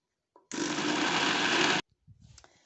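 An electric blender grinds dried figs with garlic and olive oil in one loud, continuous whir lasting just over a second before cutting out, followed by a few faint knocks.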